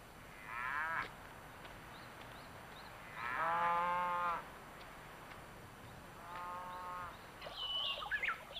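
Dairy cows on a Hokkaido farm give three drawn-out moos, moderately distant and fairly soft, separated by pauses over a steady outdoor hiss, with a few bird chirps near the end.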